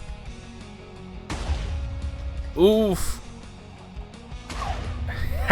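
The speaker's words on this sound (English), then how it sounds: "I think there will actually be an explosion sound" A booming Minecraft explosion with a rising, wobbling whoosh tail, set against steady rumbling background noise and a brief grunt.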